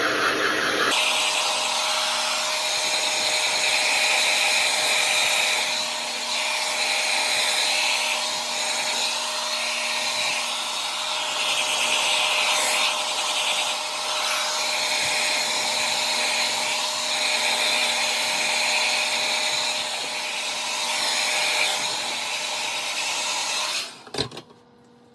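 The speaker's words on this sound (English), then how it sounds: "I use the hair dryer to get the, like the base of my head that's really heavy, just to kind of blow dry that hair" A hair dryer blows steadily at the base of a head to dry heavy hair, a loud, continuous broadband whoosh lasting about 24 seconds before cutting off with a couple of brief clicks.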